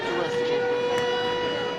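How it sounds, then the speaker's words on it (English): A steady, wailing air raid siren tone holds at one pitch during the Russian invasion of Ukraine, loud and sustained over a dense background murmur of crowds boarding. "air raid sirens, as if they needed a reminder of why they were going"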